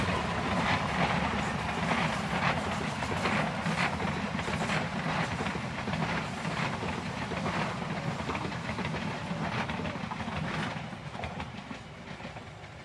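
Train on a railway near Cicalengka rolls past continuously with a loud, dense rumble and rhythmic wheel clatter, filling the whole stretch at close range; faint voices sit underneath.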